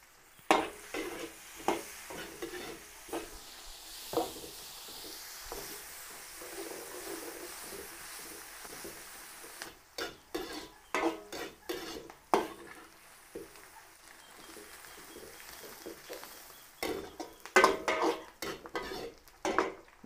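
Garlic and onion sautéing in a pan for a Filipino dish, with repeated metal utensil scrapes and clinks of stirring over a soft sizzle, close and irregular.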